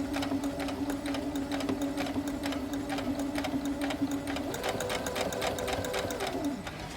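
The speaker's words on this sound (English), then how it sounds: "let me do a couple of stitches forward" A sewing machine stitches a folded fabric hem, running steadily and close with a rapid even needle rhythm for several seconds before slowing near the end.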